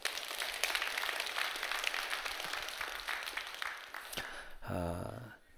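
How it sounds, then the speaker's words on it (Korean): A church congregation applauds after a teacher recognition, a dense steady wash of clapping for about four seconds before a voice briefly cuts in at the end. "여러분 박수 한번 해주셔요"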